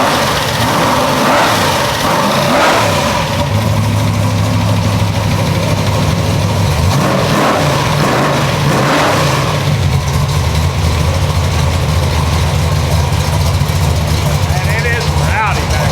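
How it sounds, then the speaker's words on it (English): A big-block Chevy V8 in a C10 burnout truck idles with a deep, steady low rumble, blipped a few times in short bursts while someone talks over it. "I'm gonna put this on so I rev it up."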